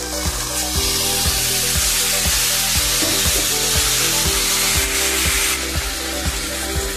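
Mutton frying in spiced masala for mutton kasha, a loud, steady sizzle close up with repeated scraping and stirring strokes of a spoon against the pan.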